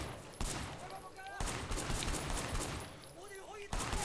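Rapid automatic gunfire from the video game Sleeping Dogs, sustained bursts of shots rattling over game sounds, loud and dense throughout with brief pauses between volleys.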